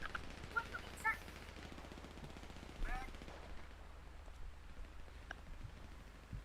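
Gunfire crackles in a zombie video game, scattered quick bursts of shots at low level with short louder pops, while players talk over it.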